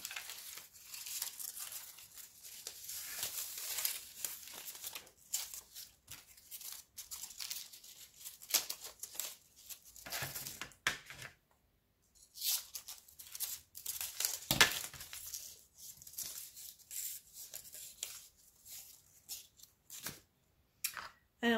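Paper being cut into two pieces for a black-and-white album, with crisp snipping, rustling and crinkling handled up close, a brief silent gap midway, and occasional speech mixed in.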